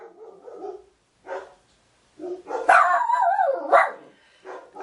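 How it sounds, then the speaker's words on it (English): Several household dogs bark and yip indoors, with a few scattered barks followed by a longer run of loud, overlapping barking and whining. "I have 4 dogs. And they feel like today is an appropriate time to start barking."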